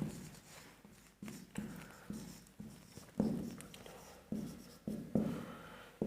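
Repeated chalk or marker strokes on a classroom board during a class-eight maths lesson on simple and compound interest, coming as a series of short scratchy taps and scrapes at an uneven rhythm, close and moderately loud, with no talk.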